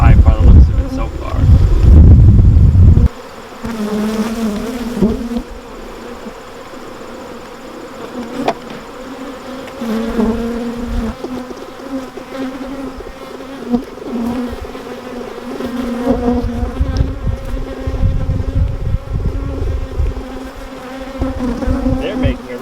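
Honey bees from an open horizontal beehive buzz steadily and close up for most of the time, after a few seconds of loud wind-like rumble at the start; a voice speaks briefly over the drone.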